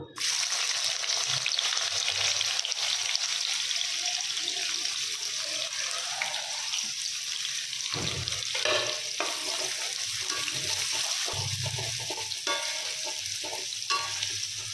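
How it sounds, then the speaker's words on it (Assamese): Onion frying in hot refined oil for plain pulao. A loud, continuous close sizzle fills the whole stretch, and scraping stirring strokes come through in the second half, with no talk. "এতিয়া মই এতিয়া পিঁয়াজ দিলোঁ"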